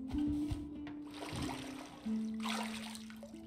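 Bathwater trickles and sloshes in a tub as a character is scrubbed in Red Dead Redemption 2, soft liquid dribbles under a steady low musical drone, no voices.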